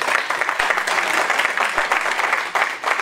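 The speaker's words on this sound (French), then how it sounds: "vos applaudissements" Sustained audience applause fills the room at a French political party section ceremony, a dense, steady clatter of many hands clapping, loud and continuous throughout with a brief dip near the end.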